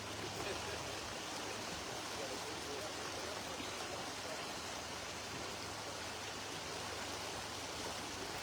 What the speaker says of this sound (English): be quiet long enough to hear the river running